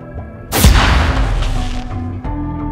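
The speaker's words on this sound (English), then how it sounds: "using some bass drops I generated using Serum Sub Oscillator and some explosion source, I made a quick explosion sound" A heavy explosion built from synthesized Serum sub-oscillator bass drops layered with explosion source material for a Borderlands 3 speaker burst: one loud booming impact with a deep rumbling tail that fades over about two seconds.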